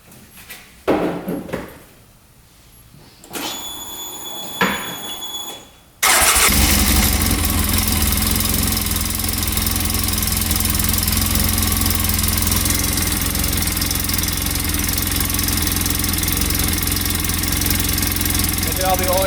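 A UTV engine cranks with a few short tries and a whine, then fires and settles into a loud, steady idle that runs close by for the rest of the clip.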